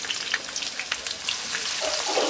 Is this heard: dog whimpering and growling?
no